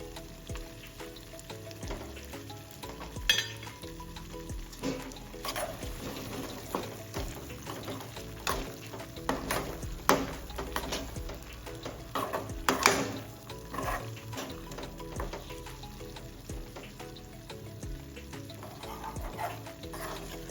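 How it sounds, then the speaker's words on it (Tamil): Boiled eggs go one by one into a pan of sizzling egg masala and are stirred, giving a steady low sizzle with scattered soft clacks and scrapes, close and quiet. "இப்போ நம்ம முட்டை மசாலா வந்து ரெடி ஆயிடுச்சு வேக வச்சிருக்க முட்டையை ஒன்று ஒன்றா சேர்த்துக்குவோம்"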